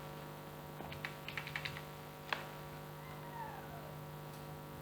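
Keys on an ordinary computer keyboard tap in a short quick burst of light clicks, then a single sharper click after a pause, faint against a steady electrical hum. A soft mewing sound appears briefly.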